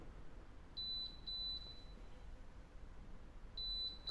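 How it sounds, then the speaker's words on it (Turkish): Bosch Serie 6 top-freezer refrigerator's door-open alarm, a high electronic beep sounding in short bursts, three pulses then a pause and another, over faint room hiss. "Bakın kapı açık alarmı öttü."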